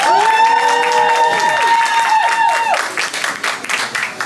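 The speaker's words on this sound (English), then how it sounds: "Y'all clap it up for Melanie one more time" At a spoken-word poetry open mic, the crowd applauds poet Melanie. Clapping runs beneath a sustained, wavering tonal voice or music, then continues alone as scattered, uneven claps after it cuts off.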